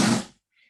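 A single short, sharp sneeze, close and fairly loud, bursting out and fading within a fraction of a second, followed by near silence.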